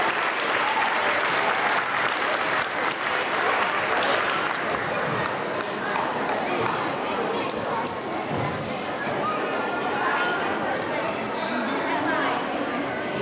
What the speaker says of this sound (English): Give the third graders a round of applause